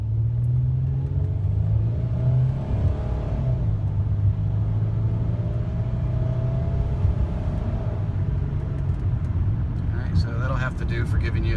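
A car engine hums steadily with low rumble, building as it accelerates along the road; a faint voice speaks near the end.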